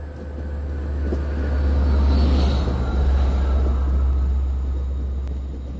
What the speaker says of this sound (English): Kawasaki C3 bilevel passenger cars.